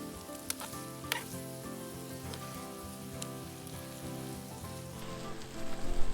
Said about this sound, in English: So now our pan and our butter is warmed up. We're going to throw in the meat.